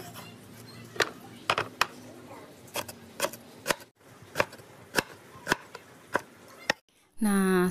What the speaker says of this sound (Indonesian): selesai kita memotong sayur nangka mudanya